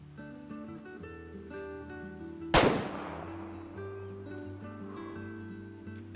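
A single sharp lever-action rifle shot rings out in the hunting game Way of the Hunter, a loud crack with a decaying tail, set against a quiet outdoor ambience with soft music.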